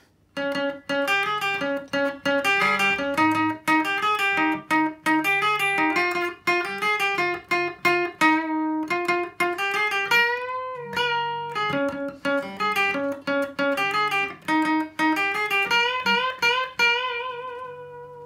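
An electric guitar plays a busy melodic bridge solo from a song, with quick picked notes and occasional bends, steady and fairly loud with no voices.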